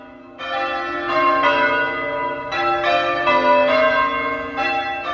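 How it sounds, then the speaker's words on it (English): Several large church bells being tried out ring in overlapping, sustained peals, their rich metallic tones swelling and layering continuously without any voices. "the eerie sound of these bells being tried out"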